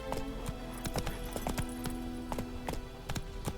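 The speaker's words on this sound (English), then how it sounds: "Is that Vesemir's horse?" Steady clip-clop of a horse's hooves at a brisk walking rhythm in The Witcher 3 video game, close and clear over a constant low hum and ambient background.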